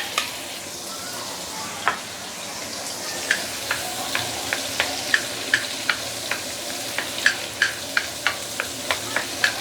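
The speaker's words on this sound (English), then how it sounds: "Then you need to saute ginger, garlic, shallot, and also the dried shrimp." Ginger, garlic, shallot and dried shrimp sautéing in oil for a mixed vegetable curry: a steady sizzle under a run of regular spatula taps and scrapes that grow more frequent, close and clear, with no talking.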